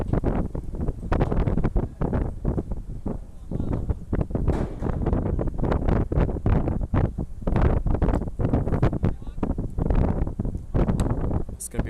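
Strong wind buffeting the microphone at an outdoor high school baseball game, a constant loud rumbling roar with gusty fluctuations throughout.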